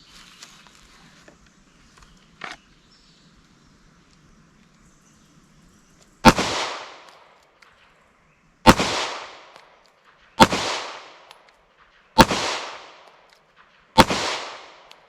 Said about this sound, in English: The first circle is 5 shots slow fire. So just give me your 5 best shots of the day.